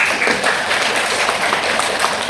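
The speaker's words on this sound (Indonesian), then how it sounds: "tepuk tangan dong" Lecture attendees at an ultrasound class break into brisk, continuous applause, a loud, even patter of many hands clapping without pause.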